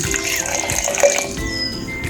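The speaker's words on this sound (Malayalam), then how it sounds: "നാരങ്ങാനീര് നമുക്ക് ഇതിലേക്ക് ഒഴിച്ചു കൊടുക്കാം" Lemon juice pours into a drink with a thin, close liquid trickle and splash lasting about two seconds.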